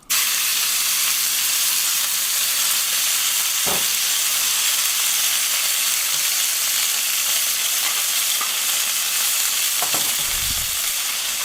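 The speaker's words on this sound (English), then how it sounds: "Griddle is nice and hot again, so let's add some more oil. And then we're going to throw on our meat." Cheese steak meat sizzles and fries on a hot oiled griddle, a loud, steady broadband hiss up close with occasional stirring scrapes and no voices.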